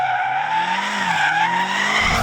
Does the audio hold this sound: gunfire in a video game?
no